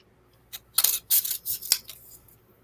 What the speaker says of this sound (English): it sounds like somebody's playing with scissors